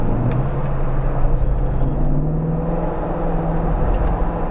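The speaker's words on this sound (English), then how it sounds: "Touch the throttle, it drops a gear." Jeep Wrangler JK fitted with an LS 6.2 V8 and 8-speed gearbox, downshifting and pulling harder at highway speed: a steady, loud low engine drone with road roar inside the cab, the pitch rising slightly, no voices.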